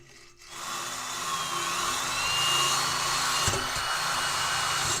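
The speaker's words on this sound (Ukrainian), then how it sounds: "єдине, що нам залишилось перед встановленням нового резонатора, це зачистити прилягаючі фланці" Abrasive cleaning of car exhaust flanges ahead of fitting a new resonator, done without a pit: a steady, close grinding whir that runs continuously after a brief start, alone with no talk.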